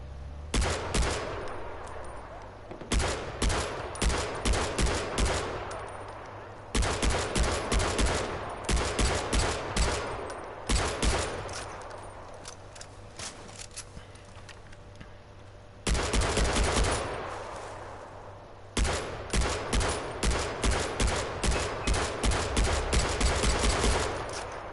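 Bursts of automatic gunfire in the video game Far Cry 4, loud rapid rattling volleys in several long stretches separated by brief gaps, with a steady background bed underneath.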